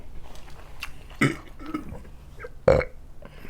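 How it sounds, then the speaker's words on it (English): A single loud close burp and a second, shorter one from someone eating a king crab and jumbo shrimp seafood boil with ramen noodles, with faint chewing sounds between them. "I get that burp out."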